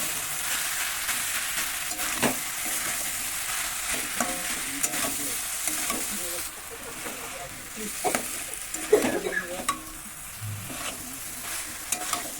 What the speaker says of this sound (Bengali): এতে সয়াবিনের মতো মশলাগুলো ভালো করে মাখা হয়ে যাবে। এর মধ্যে দিয়ে দেবো একটু কেটে রাখা ছোটো টমেটো।